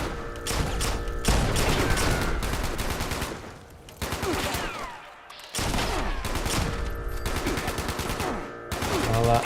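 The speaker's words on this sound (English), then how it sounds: "Oh no, they're bringing out the big guns here." Raiders in Fallout firing in dense, loud bursts of rapid machine-gun and gunshot fire, broken by short pauses between volleys.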